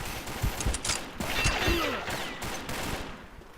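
Gunfire in a video game shooter: a quick burst of close, sharp shots followed by scattered distant pops and a short whistling effect, with no talking.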